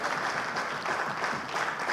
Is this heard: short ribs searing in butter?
no